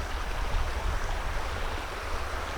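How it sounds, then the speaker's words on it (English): A small river flows past a pond in Oxbow Park, Black River State Forest, giving a steady, close, even rush of water that holds the same level for the whole stretch, with no voices. "A little river flowing by is a nice addition"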